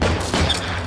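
Gunfire in the 1947 Los Angeles crime game L.A. Noire during a headshot moment, a dense, loud burst of shots running through the whole second with no voice over it.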